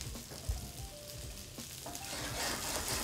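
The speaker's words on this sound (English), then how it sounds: "Hear that sizzle?" Okra dropped into a hot skillet, sizzling in a steady, close hiss of frying with small crackles and a soft clatter at the start, heard alone without talk.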